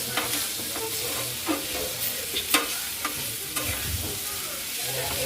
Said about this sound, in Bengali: ভালোভাবে নেড়ে নেড়ে চেড়ে হালকা আর একটু ভেজে নেবে